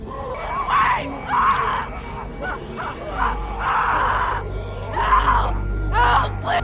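A woman's repeated anguished screams and wails in a tense scene from The Walking Dead Telltale game, loud and close, several cries in a row with a low rumbling hum building underneath.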